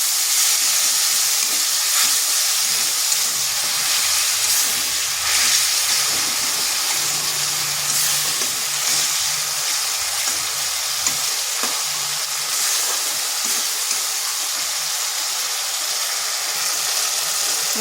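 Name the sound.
masala frying in oil in a kadai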